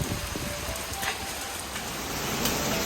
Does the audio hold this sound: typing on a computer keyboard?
no